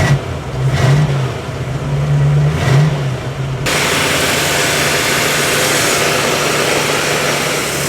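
A Sunbeam Tiger barn-find car engine runs and revs in a few rising surges, then settles into a loud, steady, close running drone.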